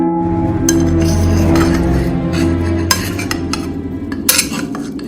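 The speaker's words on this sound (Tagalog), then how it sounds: "tangay ang tunog ng mga kutsara at tinidor sa pinggan ang aming naririnig" Spoons and forks clinking against plates at a meal, with repeated sharp metallic chinks and scrapes over a low background hum, no talk.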